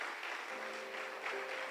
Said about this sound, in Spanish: Ahora un aplauso, por favor,